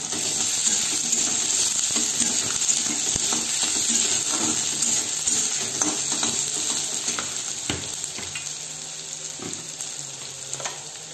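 Chopped onion with ginger and garlic frying in oil in a pan gives a continuous bright sizzle, with occasional soft clinks and stirring knocks close by and no talk.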